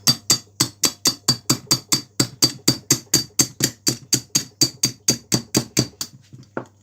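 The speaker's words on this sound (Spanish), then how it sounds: "¿Le está gustando el martillo a este motorcito" A hammer strikes a Honda Biz C100 motorcycle engine in a steady series of about twenty sharp metallic blows, evenly spaced and close, with no talking.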